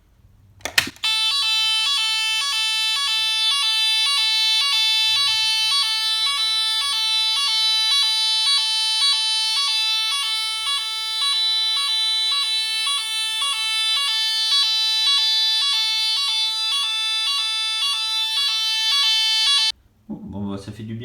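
ATSE/Chubb Activa 128 addressable fire alarm panel sounder blaring a loud, continuous, tonal electronic alarm close by for nearly twenty seconds, then cutting off abruptly.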